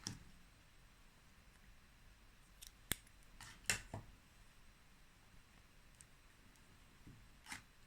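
Scissors snip through yarn during a crochet project, a few quiet, sharp snips spaced apart against a near-silent background.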